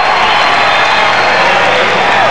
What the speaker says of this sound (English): Crowd is really into it.